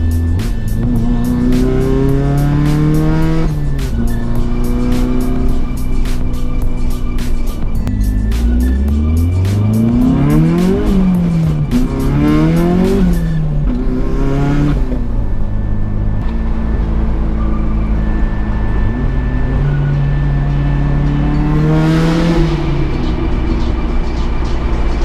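A Mazda Miata, newly running again on about half a tank of fuel, drives with its engine droning loud and close throughout, revving and shifting up and down in pitch, with a steady low exhaust rumble and no talking.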